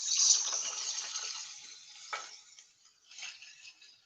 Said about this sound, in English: I'm going to start adding the water from my chickpeas.